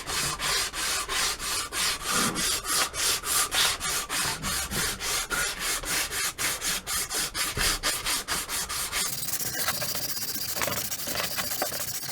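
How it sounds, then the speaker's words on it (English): A strip of P80 sandpaper rubs back and forth across an oak ferro rod handle in fast, regular strokes, making a loud, close, gritty rasp that turns to a smoother continuous hiss near the end. "for the sanding process, I've got strips of P80 cut about an inch thick, about a foot long"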